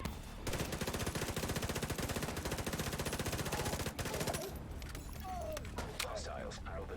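Sustained rapid automatic gunfire in The Division 2, a dense, fast rattle of shots for several seconds that cuts off, followed by scattered game sounds and talk.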